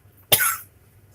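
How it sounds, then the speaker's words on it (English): A single sharp cough, close and fairly loud, bursting out after near silence and fading within a fraction of a second. "You have to apologize for coughing."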